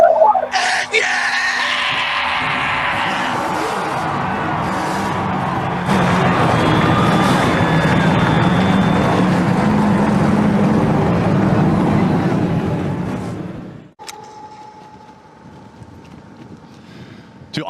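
Race car engines at the start of an event fire up together into a loud, sustained roar that swells, then cuts off sharply, leaving quieter crowd and ambient noise.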